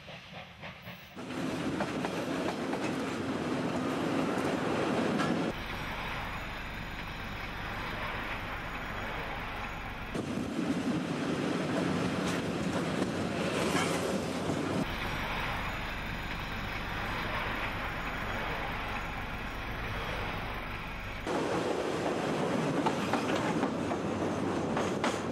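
A steam train on a New Zealand heritage railway rumbles along the tracks near Palmerston North, with a continuous roar and hiss and a repeating rhythmic clatter that grows louder and softer in turns.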